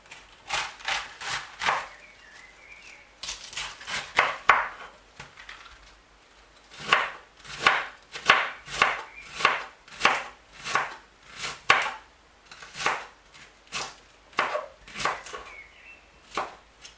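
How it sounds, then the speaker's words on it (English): Sharp knife strokes chop cabbage on a board for a Cameroon-style vegetable salad, coming in quick bursts of several rapid cuts separated by short pauses, crisp and close, with no talking. "Chop your cabbage as follows."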